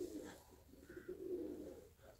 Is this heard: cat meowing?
no